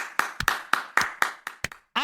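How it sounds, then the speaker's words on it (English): A few people clap in an irregular, sparse round of applause, sharp hand claps spaced unevenly over about two seconds, ending with a brief voiced sound. "Round of applause on that one."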